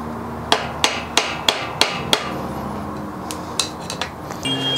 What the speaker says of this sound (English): See how it's moving already with just a really light tap of the hammer.